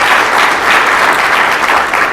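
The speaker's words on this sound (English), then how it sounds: "they deserve a round of applause for that" An audience at a Special Parks Districts forum applauds the event organizers with steady, dense clapping that stays loud and even throughout, with no voices over it.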